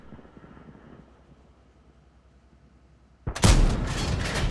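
A tank gun in World of Tanks fires once with a sudden loud boom, its rumbling blast ringing on after a quieter stretch of low background noise.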